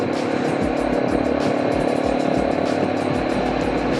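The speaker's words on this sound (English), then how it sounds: "See some bumps in the road, just open the throttle and skim over the top of them." Steady, loud motorcycle engine drone on a South Australian road as the rider opens the throttle to skim over bumps, with continuous wind rumble and no talking.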